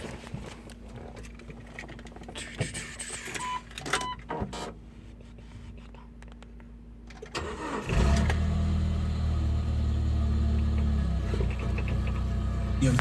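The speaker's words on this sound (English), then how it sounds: "just want to let you guys hear this Jeep. It's cold started," A 1997 Jeep Wrangler engine runs after a cold start, first with faint mechanical clatter, then the engine cranks and catches around eight seconds in and settles into a loud, steady, close idle.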